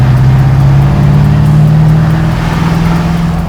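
A twin-turbo Duramax diesel-powered 1970 Chevelle accelerates at quarter throttle in fourth gear around 40 mph, its engine droning loud and close with a deep, steady rising rumble.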